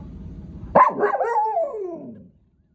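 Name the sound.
dog barking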